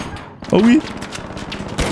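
Gunfire bursts from an automated turret in the video game Arc Raiders, loud rapid shots mixed with game sounds and someone speaking French.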